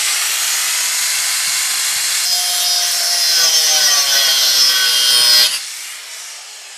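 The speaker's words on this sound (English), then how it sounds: "Angle grinder, what you gonna do? What you gonna do when I angle grind you?" An angle grinder cuts through a bolt on a giant robot build, giving a loud continuous abrasive hiss with a rising whine that stops suddenly near the end, no voices.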